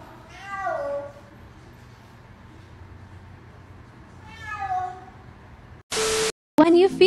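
A cat gives two drawn-out meows a few seconds apart in a quiet room, followed by short bursts of harsh noise and a brief voice at the end.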